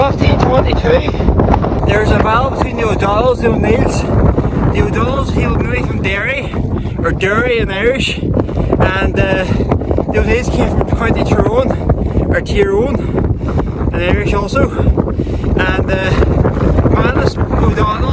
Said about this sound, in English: Very windy up here, so excuse the noise.